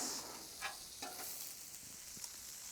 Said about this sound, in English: Our bacon is cooking up nicely. Burgers cooking down in that butter.